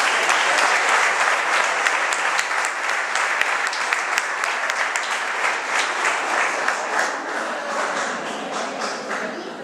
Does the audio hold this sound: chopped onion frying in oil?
no